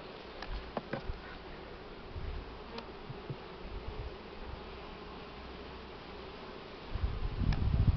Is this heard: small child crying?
no